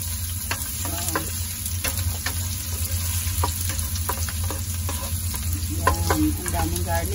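Garlic sautéing in a pan for chicken adobo, a steady close sizzle and fry with occasional stirring scrapes running throughout, no talk.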